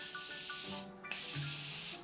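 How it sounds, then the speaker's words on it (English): Soft hissing spray bursts from a spray bottle misting a face during makeup, close and quiet, with a faint tonal hum underneath. "I'm just going to spray my cheeks"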